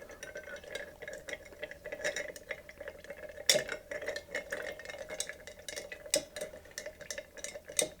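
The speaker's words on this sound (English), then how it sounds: "now we're going to stir. Good 30 to 40 seconds" A bar spoon stirs a cocktail in a mixing glass with ice, giving a steady stream of light clinking and rattling ticks, close and clear, with a sharper clack now and then and no voices.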